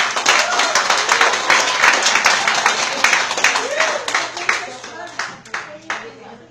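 An audience at a mayoral proclamation applauds with dense, sustained clapping that fills the room and slowly thins out toward the end, with voices mixed in.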